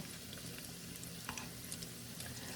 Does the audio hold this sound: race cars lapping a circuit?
no